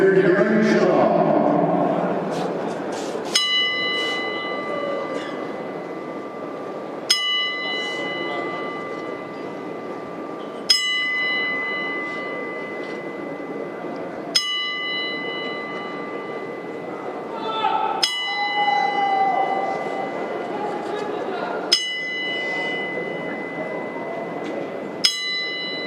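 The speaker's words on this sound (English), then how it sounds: "we told the final 10 counts of the bell" A boxing ring bell tolls slowly for a memorial ten count at a Golden Boy fight night. Seven evenly spaced, ringing strikes come about every three and a half seconds, each with a lingering metallic tone, over a low murmur of the arena crowd.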